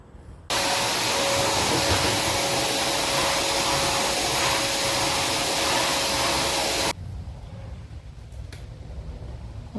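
A vacuum cleaner runs over a floor in a home before liquid floor wax is applied. A steady, loud whine starts abruptly, runs for about six seconds, then cuts off and leaves quieter room noise.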